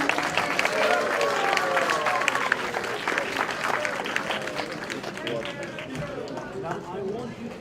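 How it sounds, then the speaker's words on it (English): An audience at a homeless dinner event applauds and cheers for a wristwatch winner, with steady sustained clapping and crowd voices filling the room, loud and close for the whole stretch. "Everyone give him a cheer."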